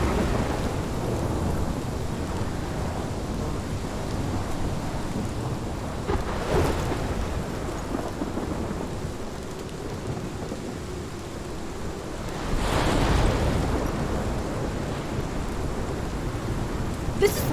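Thunderstorm in the video game Life Is Strange: steady heavy rain hiss with wind, broken by two loud rolling thunder swells, one near the middle and one stronger toward the end.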